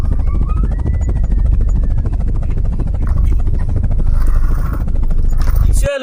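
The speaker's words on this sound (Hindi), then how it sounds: "चलो इस हेलीकॉप्टर को उड़ाते हैं" A yellow toy helicopter flying indoors, giving a loud, steady mechanical whirr with a faint rising whine early on and a clatter as it stops at the end.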